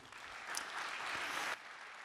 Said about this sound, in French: Pouvons les applaudir, bravo.